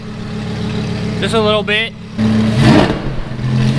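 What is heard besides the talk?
Lamborghini Huracan straight-piped exhaust revving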